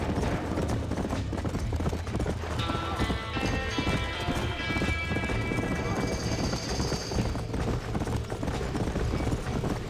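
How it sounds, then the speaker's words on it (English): Rapid clip-clopping hooves of several horses amid a busy, loud scene at a burning barn in the video game Red Dead Redemption, with horses neighing and whinnying, and some shouting voices mixed in. "Somebody get them horses out!"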